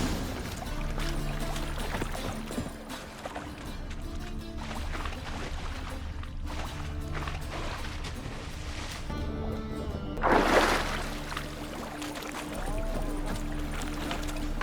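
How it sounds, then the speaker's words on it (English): A character swims through a canal in The Witcher 3, with water sloshing steadily over a game soundscape and one louder splash about two-thirds of the way through. "I'll swim towards the port."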